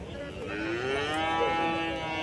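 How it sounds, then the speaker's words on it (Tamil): A bull calf at the Kundadam cattle market gives one long, sustained moo lasting about two seconds, close and clear, with no talking over it. "காளைக்கண்ணு தான் இது."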